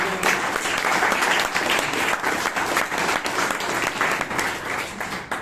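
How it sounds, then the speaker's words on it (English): An audience at a Toastmasters meeting in Bangalore gives a steady round of applause, dense and continuous throughout, with faint voices underneath. "Can we have a big round of applause?"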